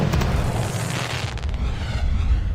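A celebratory fireworks effect plays when a gold card is revealed in the baseball management game OOTP Perfect Team, giving a steady, dense rumble of booms and crackle for several seconds with no one talking.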